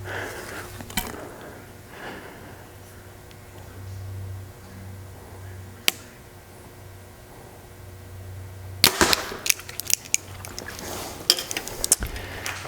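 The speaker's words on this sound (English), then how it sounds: "Great second shot on that VXR." A Mathews VXR 28 compound bow is shot outdoors, a sharp crack of release near the start and a thud at midpoint, followed later by clattering impacts and rattles.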